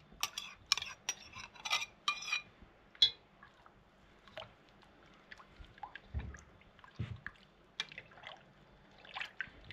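A spoon stirs yogurt with cream in a bowl, giving soft wet squelches and light scraping taps in an irregular rhythm, quiet and close, with no voice over it.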